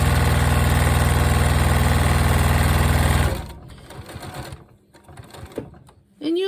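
A sewing machine stitches a pinwheel quilt block in one fast, steady mechanical run of about three seconds, then stops abruptly, leaving soft handling noises and a brief final whir.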